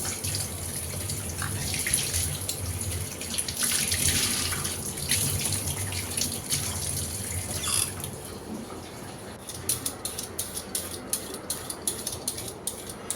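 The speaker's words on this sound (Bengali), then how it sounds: "যখন যে কাজই করি সাথে সাথেই বেসিনটা ডোলে ধুয়ে ফেলি" Tap water runs into a kitchen basin as it is washed, a steady close splashing rush that later breaks into rapid clattering scrubbing and handling sounds.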